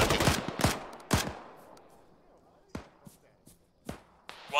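Short bursts of machine gun fire in the military video game Arma crack out in a few sharp clusters, spaced apart, with voices talking between them.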